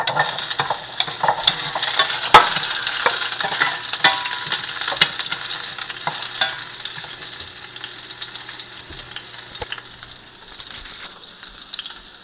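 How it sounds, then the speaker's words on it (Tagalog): Carrots sizzle and crackle in a hot frying pan for a mechado or afritada, a steady close hiss with occasional stirring clinks and pops. "Gusto ko rin piniprito kahit sandali yung carrots eh. So, prituin na natin siya sandali."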